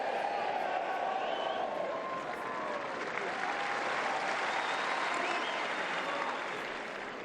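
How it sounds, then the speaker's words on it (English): Dense, sustained applause and cheering from the tennis crowd at the 2015 Roland Garros final between Djokovic and Wawrinka, loud and continuous with a commentator's voice faintly over it. "Crowd having the time of their life."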